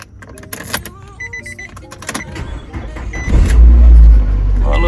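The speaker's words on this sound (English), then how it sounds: "All right, let's go ahead and start this thing up." Nissan Altima starts up: several clicks and a whirring crank give way to a loud engine catch and a rough, steady idle close by.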